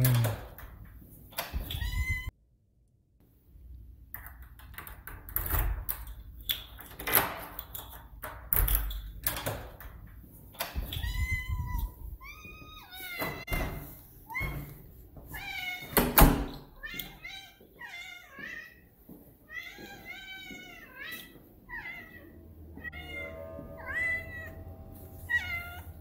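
A cat in the online game Anarchy Online meows repeatedly, many clear rising-and-falling calls with some knocks and thumps mixed in, heard close and fairly loud.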